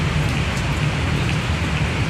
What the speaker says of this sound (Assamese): সেয়া বাৰিষা হ'ল।